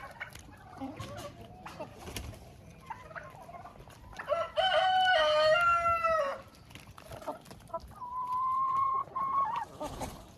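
Laying hens on a farm cluck and call, with one bird letting out a loud drawn-out crow or squawk midway and another sustained call near the end, over low yard noise.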